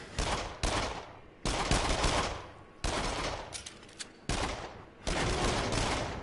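Bursts of gunfire from the PlayStation VR shooter Until Dawn: Rush of Blood, loud, clustered volleys of rapid shots separated by brief pauses, with no talking over them.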